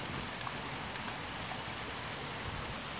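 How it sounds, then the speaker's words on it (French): A steady, dense patter of sleet falling continuously during a thunderstorm, a constant hiss with no pauses and no voices. "Une petite chute de grésil"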